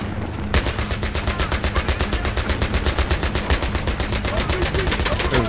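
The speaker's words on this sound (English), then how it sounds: "Getting shot from the far right." Automatic gunfire in a Battlefield video game mission, loud and continuous, with rapid, evenly spaced bursts of shots rattling steadily for several seconds.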